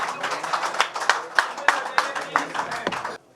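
Audience applause at a launch ceremony for a social media association in Pakistan, scattered, uneven claps of moderate loudness that thin out and stop abruptly near the end, with some voices mixed in.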